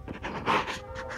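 A dog pants close to the microphone in quick, rhythmic breathy puffs over a short moment, with no other sounds.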